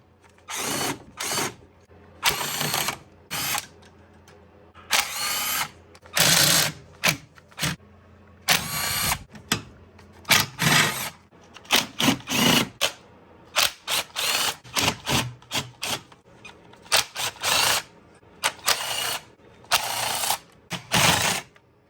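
A power tool backs out the 10mm bolts holding the coil packs on a 5.7 HEMI engine in a Dodge car. It comes as a string of short, loud whirring bursts separated by brief pauses, with no talking.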